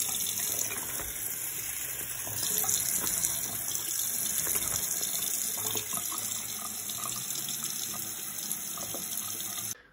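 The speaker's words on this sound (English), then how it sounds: "I actually put some water in and then added the product to the water." Tap water runs steadily into a sink or tub, filling it to wash two waterproof outerwear coats, including a Gore-Tex coat, with a wash-in waterproofer; a loud, continuous gushing close by that stops abruptly at the end.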